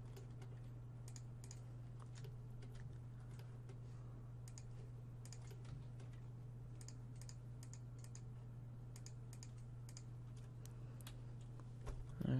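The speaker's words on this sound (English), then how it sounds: "delete those by holding Control and pressing backspace." Computer keyboard keys clicking in light, scattered taps while deleting in 3D modelling software, faint and close over a low steady electrical hum, with no talking.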